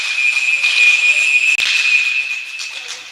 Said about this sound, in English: That was the longest cover whistle I've ever heard.